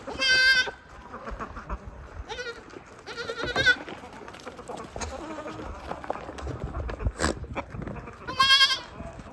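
A mother goat and her baby goat bleat repeatedly, loud nearby cries at the start and end with softer ones between, over rustling and movement in a stall.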